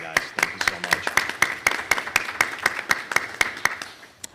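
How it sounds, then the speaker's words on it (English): Sustained applause with a steady run of sharp, distinct claps for newly seated board members at a school board of education meeting, moderately loud and fairly even in rhythm throughout. "So another round of applause for you guys."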